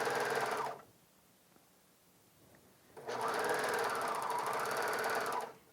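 A Bernina 700D serger stitching piping onto a bias strip runs in two steady, whirring bursts, separated by a quiet pause of about two seconds, close and even-paced.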